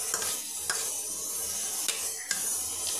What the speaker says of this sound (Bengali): এবার এই বাদামগুলো, ভাজা বাদামগুলো আমি ভালো করে মিশিয়ে দিচ্ছি।